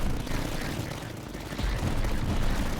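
Mortar fire in the Tower Dominion tower defense game: a steady, crackling barrage of shots and thuds that goes on throughout at medium loudness.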